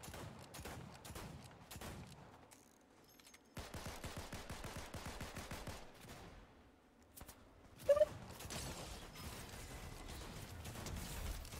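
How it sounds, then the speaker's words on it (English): Infantry rifle gunfire in a video game, sequences of rapid shots in several bursts, fairly faint, with quiet pauses between them and a brief sharp tone partway through. "Like right now I have a infantry rifle."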